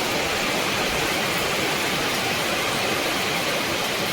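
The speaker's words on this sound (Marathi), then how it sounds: "पाणी पडत आहे बघा, त्याच्यावरनं एवढं जोरात लागतं ते. बेकार लागता पावसा." Heavy monsoon rain pours down outside a window in a dense, unbroken hiss, steady and loud from start to finish with no voices.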